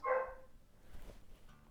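Dog giving a single short bark at the start, fairly close and clear, followed by quieter background rustle without talk.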